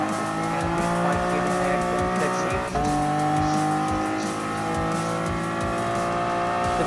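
A Lamborghini Aventador race car in the Gran Turismo Sport racing game, engine droning loud and steady with shifting tones, brief tire squeal and a gear change partway through, no talk.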